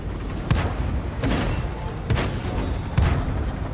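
A tank cannon firing in a video game fills the mix with a steady dense roar, broken by four heavy booming shots at roughly even intervals about a second apart.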